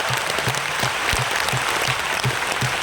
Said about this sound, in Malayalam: ഒരു നല്ല കൈയടി സാറിന് വേണ്ടി ആകാം.